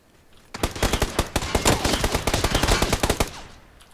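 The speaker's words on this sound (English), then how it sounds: "Somebody else is shooting at us too." Rapid automatic gunfire in the video game PUBG, a dense burst of shots fired close and loud for about three seconds, with no talking over it.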